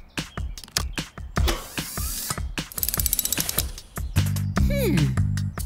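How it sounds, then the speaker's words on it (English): A cartoon hose reel is cranked as a winch, giving rapid ratcheting clicks and whirring gear sounds, then a rising mechanical whine and a low hum toward the end, with some voice-like noise mixed in. "We'll extend the hose and wrap it around that tree for leverage and turn Fiona's reel into a winch!"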